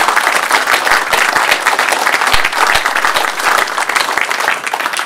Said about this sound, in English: to give him another round of applause.